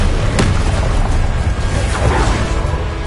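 A fire spell, Incendio, cast in the game Hogwarts Legacy: a loud booming whoosh with a sharp crack early on and sustained rumbling blaze afterward, close and continuous.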